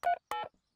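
Two quick electronic telephone dialing tones, one after another with a short gap, followed by a faint blip, with no voices, from a Peppa Pig cartoon.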